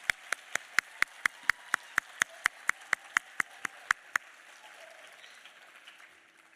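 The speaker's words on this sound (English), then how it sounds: "Please give another round of applause for our dancers." A single loud, slow rhythmic clap, about fifteen evenly spaced sharp claps in a performance hall after an Arangetram dance recital, fading to quiet room ambience once the clapping stops.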